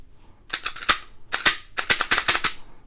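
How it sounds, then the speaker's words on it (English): Magazine being pulled from a cleaned, freshly oiled handgun: a quick series of sharp metallic clicks and snaps in three close bursts, loud and near, with no talk. "Let me get this mag out of here."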